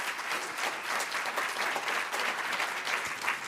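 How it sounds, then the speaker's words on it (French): Dense, sustained applause from a big audience, an even roar of clapping that holds steady from start to finish. "tonnerre d'applaudissements s'il vous plaît pour moi."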